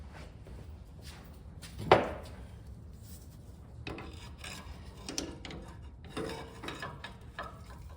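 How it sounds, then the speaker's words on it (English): A pry bar forces a new Timbren bump stop into place, producing scraping and rubbing of metal and rubber with one sharp clunk early on, followed by quieter intermittent scrapes. "I end up just using a pry bar."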